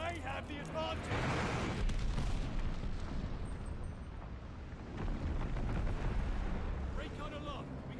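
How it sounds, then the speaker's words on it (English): Bombing-run explosions in the video game Call of Duty Vanguard rumble as a sustained low roar and blasts for several seconds, with in-game announcer voices over the top. "Allies call the bombing run. Incoming. Friendly sending a glide bomb."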